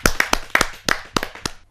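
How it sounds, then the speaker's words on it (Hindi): Audience at a Hindi poetry recital claps in a quick burst of about ten sharp, close hand claps that thin out and fade. "जोरदार तालियों के साथ मदन मोहन"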